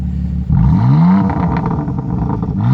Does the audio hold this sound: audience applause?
no